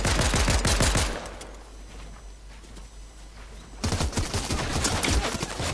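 Fortnite gunfire, loud rapid bursts of shots at the start, then a quieter stretch of low rumble and movement, before the rapid firing comes back hard and continues to the end.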